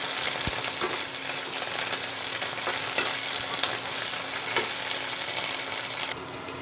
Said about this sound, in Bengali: এর মধ্যে আমি এই রসুন আর আদা বাটাটা দিয়ে দেবো, এই 1 চামচের মতো। এটা ভালো মতো ভেজে নিতে হবে